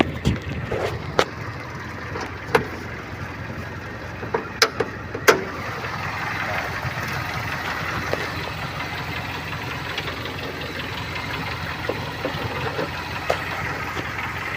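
A Toyota Kijang 7K engine idles steadily nearby with the hood open, a low continuous rumble broken by a few sharp clicks and taps.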